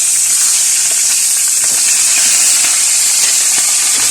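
Steady, loud sizzling and crackling hiss of fish frying in hot oil, continuous throughout with no pauses.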